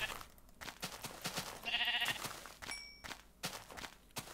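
A single Minecraft sheep bleats in the middle of a stretch of clicking and tapping game sounds, with no voices over it.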